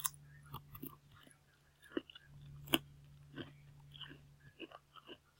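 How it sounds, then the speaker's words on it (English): Crackers being eaten close to the microphone, faint scattered crunches and soft chewing clicks over a low steady hum, with no voices. "if you hear crunching and weird sounds, I'm eating crackers"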